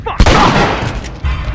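A single loud, close gunshot rings out in The Last of Us video game, a sharp crack followed by a decaying boom and a faint trailing echo.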